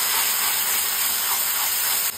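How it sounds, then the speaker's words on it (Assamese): Spice paste for a fish curry frying in a hot pan, giving a steady, loud hissing sizzle that holds for the whole moment without any talk. "এতিয়া মই পেষ্টটো অকণমান ভাজি ল'ম"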